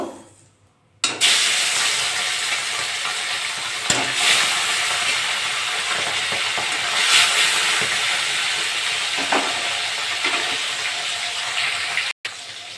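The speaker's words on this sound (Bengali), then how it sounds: "কড়াটা গরম হয়ে গেছে আমি এবার সর্ষের তেল দিয়ে দেবো তেলটা গরম হয়ে গেছে মাছগুলো ভেজে নেব" Fish frying in hot mustard oil in a pan, a steady broadband sizzle that starts abruptly after a second of quiet and runs on loud and close, with a few clinks and crackles and a brief cut near the end.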